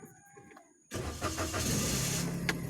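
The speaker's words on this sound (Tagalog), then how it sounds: "Mag-i-start na tayo ng kotse." A car engine cranks and catches about a second in, then settles into a steady near idle to warm up in a shaded spot, with no talk.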